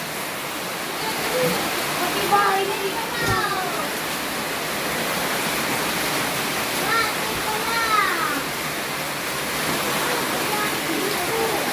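A flooded creek rushes as a broad, constant roar of waist-deep water, with a person talking over it at intervals.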